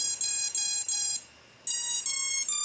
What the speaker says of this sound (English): It'll still do its beeps.